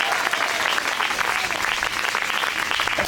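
A church congregation claps together in a dense, continuous burst of applause, loud and close throughout the few seconds.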